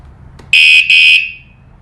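A customer's anti-theft alarm gives a loud, piercing electronic beep as it arms, split by a brief break into two close tones, then a fading tail in an otherwise quiet space.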